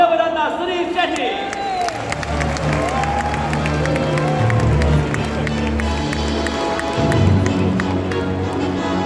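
Crowd cheering and clapping at the 53rd IFFI opening ceremony in Goa as Sunil Shetty is welcomed, a steady, loud roar of a large audience with music underneath and a voice talking over it.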